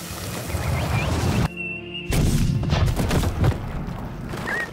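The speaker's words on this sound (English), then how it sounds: "The exploding egg." An exploding egg blasts in The Witcher 3, loud and booming with crashing debris, broken by a brief tonal gap before the rumbling chaos resumes.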